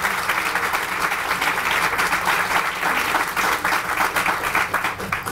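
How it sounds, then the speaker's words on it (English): A round of audience applause at the opening celebration of a heart and stroke center, dense, even clapping from a sizable crowd, sustained and fairly close with no talk over it. "acknowledge one of my staff, Fred Weinbaum, with a big round of applause for his leadership."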